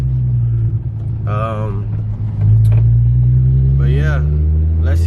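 A steady low engine drone from a 2004 Infiniti G35 with a manual gearbox, heard from inside while driving, rising slightly partway through, with someone talking over it.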